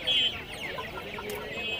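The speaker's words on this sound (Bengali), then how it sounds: "হ্যাঁ একটা মোরগ একটা মুরগি।" Silkie chickens at a busy pigeon market give a brief run of close clucks, with faint crowd murmur behind them.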